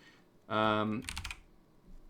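A short burst of rapid computer keyboard keystrokes, faint and close, follows a brief spoken word, with quiet room noise around it.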